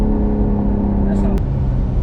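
A BMW X3M or M340i engine hums steadily from inside the car, a loud low drone with a sustained tone that drops slightly partway through, while people talk over it.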